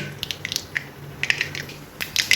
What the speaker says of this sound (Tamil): கடுகு இப்போ பொறிஞ்சு வருது